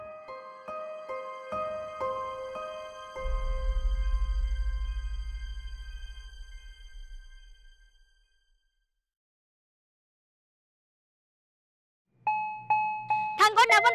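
A two-tone doorbell chime rings loud and close, its notes ringing out and decaying into silence, then a second chime starts abruptly near the end of the clip.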